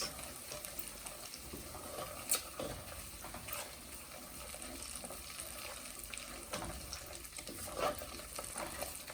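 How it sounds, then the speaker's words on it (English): Ogbono-okro soup stirred and frying on low heat gives a soft steady sizzle with occasional faint scrapes and knocks, quiet and without talk. "I'm just going to add all of that and then continue stirring"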